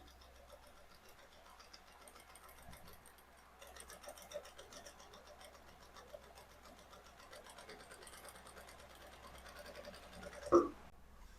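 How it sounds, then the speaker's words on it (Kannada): A sewing machine stitches a lined blouse with a low, steady whirring hum that runs nearly the whole time, quiet and close, ending in a brief louder knock. "ಈಗ ಇದನ್ನ ಹಿಂಗ್ ಟರ್ನ್ ಮಾಡ್ಕೊಂಡು ಇಲ್ಲಿಂದ ಸ್ಟಿಚಿಂಗ್ ಮಾಡ್ಕೊಳ್ಳೋಣ."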